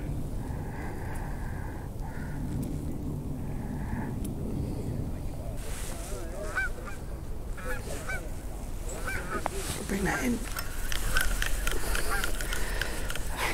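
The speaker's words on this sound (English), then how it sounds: "Like a geese coming across." Geese honk overhead as they fly across a fishing lake, a series of calls growing louder toward the end over steady outdoor ambience.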